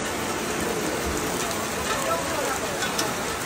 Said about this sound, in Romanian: Uitați-vă ce frumos plouă și liniștit